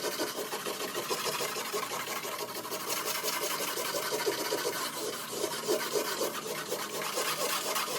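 Power sanding on a wooden workbench under construction produces a continuous, loud, gritty buzzing rasp with a fast rhythmic texture, steady and close throughout with no talk.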